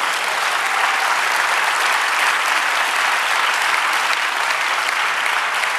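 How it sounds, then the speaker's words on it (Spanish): A church congregation applauding during a sermon: steady, dense, loud clapping from many people, holding an even level throughout without breaks or voices. "Denle otro aplauso al Señor."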